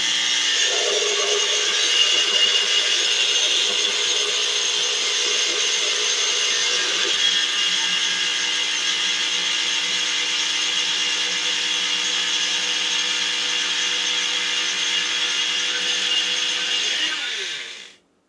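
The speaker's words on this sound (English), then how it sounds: "All we're going to do is grind them for as fine as we can get them." Pine cones ground into fine powder in an electric grinder, making a loud, steady high-pitched whir with a rattling churn that eases slightly partway through, then stops abruptly at the end, with no voices.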